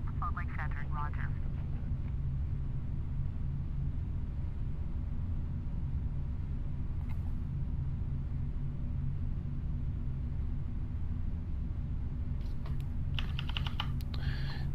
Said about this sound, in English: Now I'm actually using a mouse and keyboard